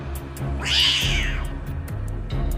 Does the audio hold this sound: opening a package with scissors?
no